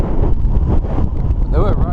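Strong, steady wind buffets the microphone atop a hilltop beacon on a coastal hike, a loud rumbling roar that lasts the whole moment with no letup.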